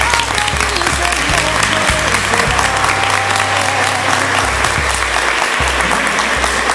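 Loud, continuous applause from a crowd at a ballet company's 30th anniversary dance celebration, dense clapping sustained throughout with a low musical hum underneath.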